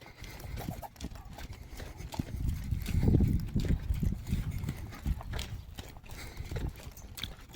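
Hooves of a horse clip-clop steadily on the ground during groundwork training, close and continuous, with the footfalls growing heavier in the middle over a low rumbling background.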